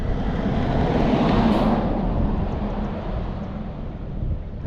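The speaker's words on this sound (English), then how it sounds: "Here goes the Playas bus." A blue Playas city bus rumbles past on a beach road near La Paz, Baja, a steady broad engine and road roar swelling and easing, with wind noise and no talking.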